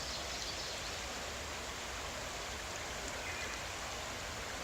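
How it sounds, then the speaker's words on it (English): Roaring Creek in Weiser State Forest runs steadily in spring, a dense broadband rush of water that stays constant and fairly loud throughout, with no voices or other sounds breaking through. "I believe this is Roaring Creek"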